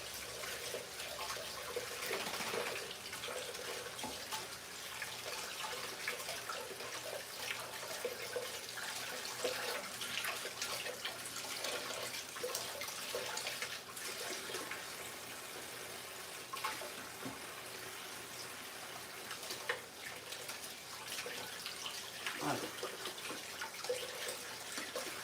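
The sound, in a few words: tap water running while washing hands at sink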